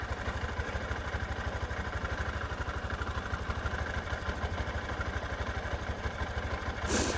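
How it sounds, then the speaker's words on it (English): A Honda CB125F motorcycle engine idles steadily with an even low thrum and a light mechanical clatter, close by and continuous, rising briefly near the end. "just going to let that sit here and idle"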